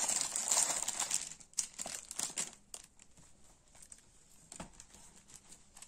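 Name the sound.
opening a paper budget planner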